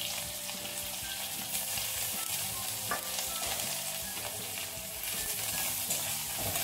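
Chopped onions hit hot oil with fried panch phoron five-spice and chili for a pui saag chorchori. A close, steady sizzle carries soft stirring scrapes and occasional pops throughout.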